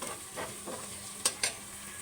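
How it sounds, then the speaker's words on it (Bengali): Ground cumin paste frying in oil, a low steady sizzle punctuated by a couple of brief spoon scrapes and two sharper clinks near the end, no speech. "জিরা বাটাটা একটু তেলে ভাজা লাগবে।"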